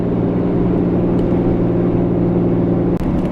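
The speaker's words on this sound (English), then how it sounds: "love that exhaust brake coming down a good hill" A 2014 Ram truck's exhaust brake holds it back on a downhill grade, producing a loud, steady low droning rumble with a constant pitch and a brief dip near the end.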